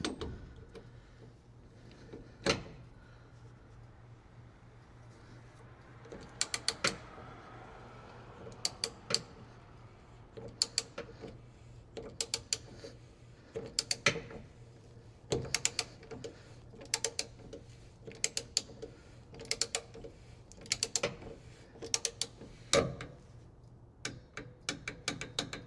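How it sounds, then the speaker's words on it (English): Mechanical clicks and ratcheting from a torque wrench set to 18 foot-pounds, tightening the fuel filter on a 2024 GMC 3500 AT4 HD with a 6.6L Duramax, as a series of sharp, close clicks scattered over a quiet shop hum. "Set it to 18 foot-pounds. This is probably a little overkill, but better safe than sorry. Grab my torque wrench."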